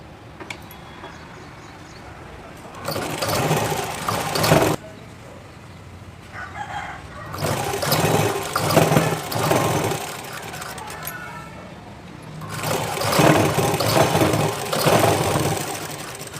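A sewing machine stitches a blouse seam in three loud, close bursts of rapid running, separated by short quiet pauses with a faint background hum.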